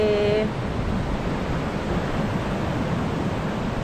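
Surf of the Andaman Sea off Koh Lanta, a constant rushing wash of waves holding evenly from start to end, with a brief tonal blip at the very beginning and no talking.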